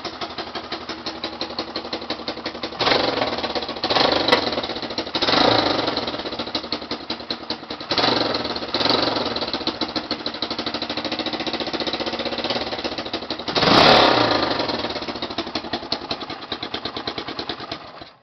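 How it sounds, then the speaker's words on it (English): A Honda XL 185 motorcycle fitted with a new muffler runs close by, its single-cylinder engine ticking in a rapid, even idle with several short revs swelling and falling back. "Pretty quiet. Sounds like a newer bike."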